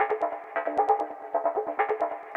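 A sample chopped at its transients by Xfer Nerve's slice loop mode, playing as a rhythmic, somewhat clicky sequence of sliced hits with sharp onsets and no voice over it.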